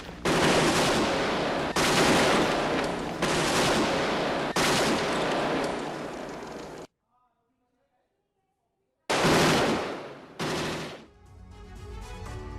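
Bursts of automatic gunfire from Ukrainian soldiers in combat near Donetsk, loud, dense volleys that stop dead for about two seconds and then resume in a short, rough burst, with no voices over them.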